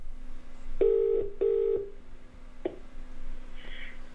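Telephone dialing tones from a computer telephone: two longer beeps followed by a short one, clear and close, over a faint steady low hum.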